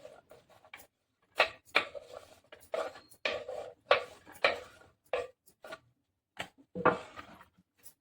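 Chopped ridge gourd pieces being moved onto a plate in a home kitchen, giving a series of soft, close clinks, taps and rubbing scrapes in irregular bursts with short pauses between.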